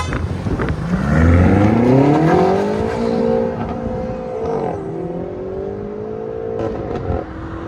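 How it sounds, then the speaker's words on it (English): A BMW M5 with a 4.4-litre twin-turbo V8, resonator delete and valved exhaust accelerates away hard, its loud rising engine note climbing through the gears and then easing into a steady drone as it moves off. "BMW M5 with a res delete. And it's got valves, so it's straight pipe basically."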